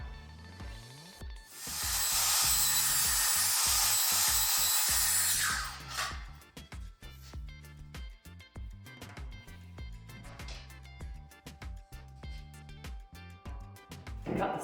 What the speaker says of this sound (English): if I do a 45-degree cut, taking off half that line, I'll end up with one piece of my mitre for this external corner